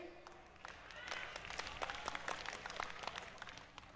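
Audience at a joint harvest festival in Taipei County, applauding with a dense spray of scattered claps that swells and continues for several seconds, fairly faint and distant under a faint background hum.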